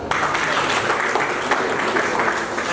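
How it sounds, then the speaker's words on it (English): An audience at a Rotary Club presidential installation in Mbale applauds the president, a dense, steady burst of clapping from many hands lasting a few seconds. "Let's give the president another clap."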